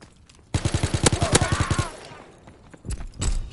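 A rapid burst of automatic gunfire from a WW2 shooter played on PS4 rattles in a steady, evenly spaced string of about a dozen loud shots, then gives way to quieter scattered thumps and a dull blast.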